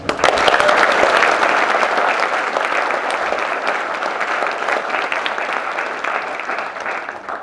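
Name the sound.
graduates applauding themselves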